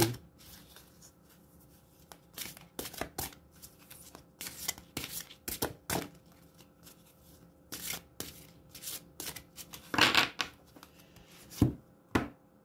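Tarot cards are shuffled and cut by hand in a quiet room, giving repeated riffling bursts and flicks of card stock in uneven clusters, close and fairly soft.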